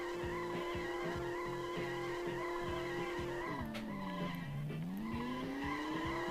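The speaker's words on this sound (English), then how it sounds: "Why are my tires squealing like that?" Tires squealing in the PS2 racing game Road Trip Adventure on a highway cloverleaf: a continuous high whine that sags in pitch then rises again over a steady engine drone, loud and constant, no talking.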